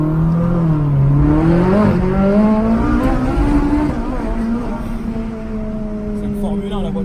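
A powerful engine revs up and holds a high, rising whine, loud and close, then eases to a steady drone; a voice can be heard underneath.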